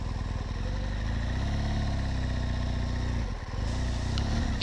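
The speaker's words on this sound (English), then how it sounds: "this big old bike is kind of a hassle to turn around on a tight trail" A BMW R1200 GS Adventure motorcycle on a tight off-road trail, its engine running steadily and close by with a dense low rumble throughout, dipping briefly before picking back up.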